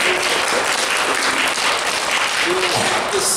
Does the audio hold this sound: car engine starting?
no